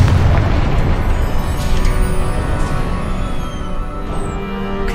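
A Confringo spell explosion in the game Hogwarts Legacy, a loud, close blast that rolls into a long, heavy rumbling roar and fades slowly over several seconds.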